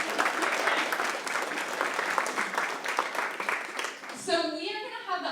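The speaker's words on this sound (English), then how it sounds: "let's give each other a round of applause." A conference audience claps for one another at a leadership summit, with sustained applause throughout, and a voice briefly speaks over the clapping near the end.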